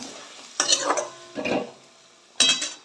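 Food stirred with spices in a pot before chicken goes in, three separate scraping, sizzling strokes of a utensil, close and fairly loud, with quiet gaps between them.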